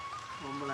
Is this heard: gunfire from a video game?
no